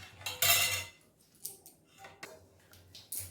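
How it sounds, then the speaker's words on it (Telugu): Wheat flour batter for godumpindi attlu is stirred in a bowl, giving scraping and clinking strokes against the bowl in uneven bursts, close and fairly loud, with no talk. "కలిపి గోధుమ పిండి కొంచెం కొంచెం ఇందులో వేసుకుంటూ ఇది కలపాలన్నమాట."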